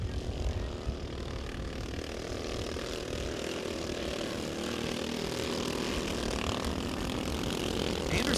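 Racing go-karts lapping a dirt speedway in South Texas, a continuous buzzing engine drone from several karts heard at a distance through the turns, steady and moderately loud.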